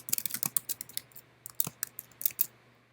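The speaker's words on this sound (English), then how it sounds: "you can simply just come in and type them out" Typing on a computer keyboard produces quick, close, crisp key clicks in irregular bursts with short pauses between them, heard alone with no talk.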